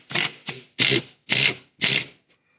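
Lag screws being driven to fix a mounting bracket onto a 2x4 screwed to wall studs: five close, loud ratcheting bursts of tool noise in quick succession, each lasting a fraction of a second, with short gaps between.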